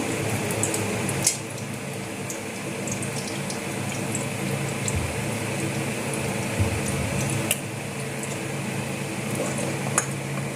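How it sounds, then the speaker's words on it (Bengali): Mustard oil hits a hot wok with a continuous, even hiss that runs throughout, with a few sharp clicks standing out near and clear and no talking. "কড়াই গরম হয়েছে এবং আমি সরিষার তেলটা দিয়ে দিব।"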